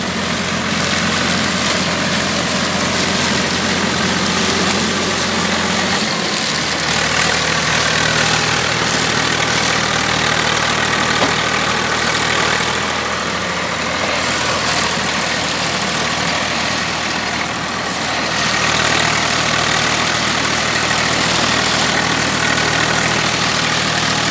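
A tractor engine pulling a 12-row Happy Seeder through a straw-covered field runs loud and steady, with a constant rumbling drone and a slight change in tone about a quarter of the way in.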